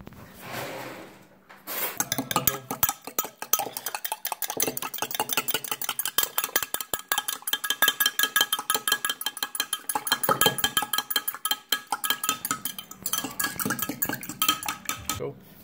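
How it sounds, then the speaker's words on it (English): A fork whisks an olive oil salad dressing in a bowl, with fast rhythmic metallic clinking and scraping against the sides that runs on in steady bursts after a quiet start. "we're going to get a fork or a small whisk and whisk this together."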